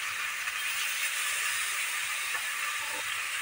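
Silver carp fries with mustard in a wok, giving a steady, loud, unbroken hiss of sizzling oil that stays close and even from start to finish.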